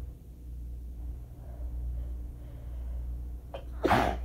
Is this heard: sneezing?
yes